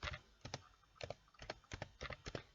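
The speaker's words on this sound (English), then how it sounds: "I'm just going to type here" Keys clack on a computer keyboard in quick, irregular bursts of taps, close and clear, with short pauses between groups of keystrokes and no talking.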